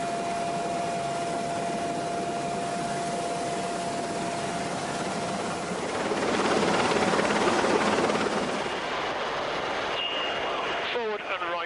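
Rescue helicopter hovering during a winching operation, a loud continuous rotor and turbine roar that swells midway, with voices briefly heard near the end.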